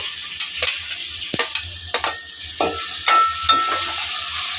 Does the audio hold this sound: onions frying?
yes